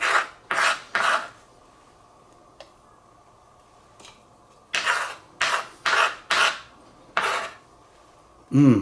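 A knife rapidly minces an ingredient on a cutting board for Italian meatballs, sounding as loud, rasping chopping bursts in two quick runs separated by a pause. A few faint taps sit between the runs.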